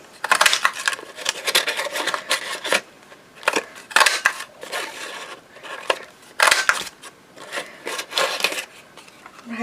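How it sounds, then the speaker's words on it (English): A craft punch presses butterfly shapes out of paper, with several bursts of scraping, crunching paper noise separated by short pauses, close and fairly loud, with no talk. "I'm going to punch a couple of butterflies in this"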